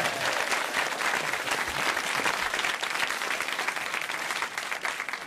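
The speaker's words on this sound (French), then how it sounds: "mesdames et messieurs, je vous demande d'applaudir, Pierre Bénichou." A TV studio audience claps loudly for a guest on a French talk show, a dense, steady burst of applause lasting several seconds with no voices over it.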